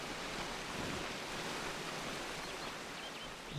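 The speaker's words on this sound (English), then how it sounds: "I'm in water that's full of dead bodies" Continuous broadband rushing of river water in the Kingdoms of Amalur video game, a steady watery wash with no talking.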